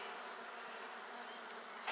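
Bees buzzing at a Flow hive in a steady, soft hum close by, a continuous drone with no voices.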